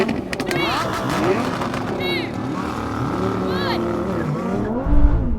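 Several sports cars, a Lamborghini Huracán Performante, an Audi R8 and a Nissan GT-R, launch hard from a drag race start, engines roaring loudly and rising steadily, with voices talking over them.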